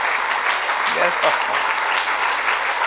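Brief burst of steady applause from a seated satsang congregation, dense and even throughout, with a short spoken voice rising above it near the middle.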